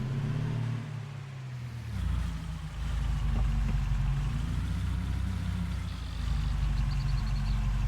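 A tractor engine in the Farming Simulator 22 game backing up to hook onto a trailer, a steady low drone that drops briefly then swells as it revs, with a faint beeping near the end.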